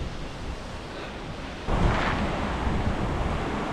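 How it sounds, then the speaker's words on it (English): Waterfall at Turner Falls Park in Oklahoma, a broad steady roar of falling water that swells louder partway through, close and continuous with no voices. "Waterfall."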